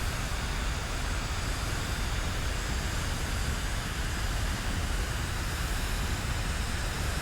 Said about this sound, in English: With flight sim background noise.